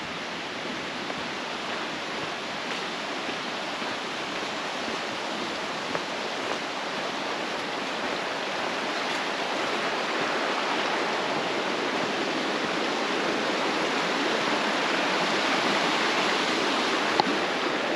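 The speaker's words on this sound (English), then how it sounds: "I believe this would be Kimsey Creek, where it's coming down to join into the Nantahala River." Kimsey Creek at Standing Indian Campground in North Carolina flows down to join the Nantahala River, a continuous rushing of water that stays steady and close and slowly grows a little louder.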